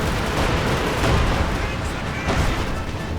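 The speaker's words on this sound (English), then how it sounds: "Another IS-2 strafing run. Quickly clearing out the pack crew with the 23mm cannons." Rapid bursts of 23mm aircraft cannon fire rake the ground during a strafing run in a World War II strategy game, a dense, steady rattle of gunfire with booms mixed in, loud and continuous.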